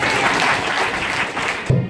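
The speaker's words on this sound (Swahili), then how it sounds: "Piga makofi mbele za Bwana" A church congregation in Dar es Salaam claps together, dense loud continuous applause from many hands that cuts off abruptly near the end with a thump.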